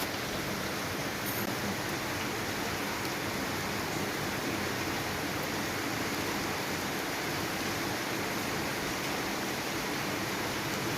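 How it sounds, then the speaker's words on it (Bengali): Steady, even hiss of rain falling, continuous and fairly loud throughout with no voices. "এই যে বৃষ্টি পড়তেছে, ভালোই বৃষ্টি পড়তেছে।"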